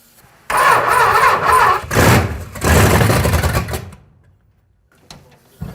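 Big block V8 swapped into a junkyard Suzuki Samurai cranks loudly for a few seconds, catches and roars, then cuts out abruptly into near silence, heard close up.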